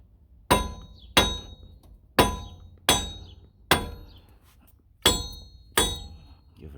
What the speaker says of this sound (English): Bring out sister sledge.